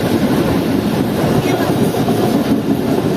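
The Karakoram Express runs past a railway station, with a loud, close, continuous rumble and rushing noise of the moving train.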